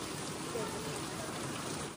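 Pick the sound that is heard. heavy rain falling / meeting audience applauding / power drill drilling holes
heavy rain falling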